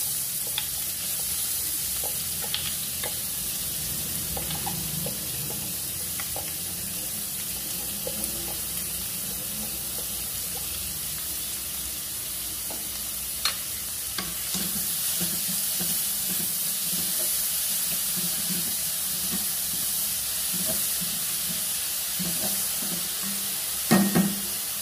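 Green chillies and finely chopped onion sizzle steadily in a hot pan, a constant hissing fry broken by scattered scraping stirs, with no talking over it.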